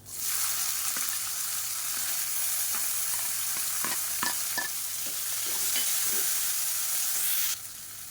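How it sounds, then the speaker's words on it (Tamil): Spices, onion, green chillies and curry leaves for venpongal fry in hot oil with a constant close sizzle, cut through by repeated scraping and tapping of a spoon as the mix is stirred, then the sound drops away near the end. "இப்போ பாருங்கள் எல்லாமே நல்லா பொரியுது"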